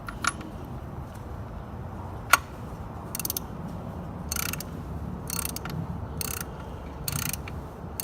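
A ratchet with a 22mm socket clicks in short bursts while turning the PCV valve on a 2005 Toyota Camry, giving several separate clicking runs over a steady low background hum, with one sharper knock partway through.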